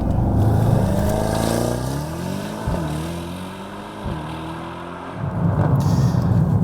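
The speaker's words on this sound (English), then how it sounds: "Now that was a race start, a selectable option that comes complete with this third generation model's new 9-speed AMG Speedshift MCT auto gearbox" A 2017 third-generation Mercedes-AMG E63 4MATIC performs a race start with its 9-speed AMG Speedshift MCT gearbox, its engine roaring loud and near while rising in pitch. Brief dips mark quick gear changes before the roar surges again.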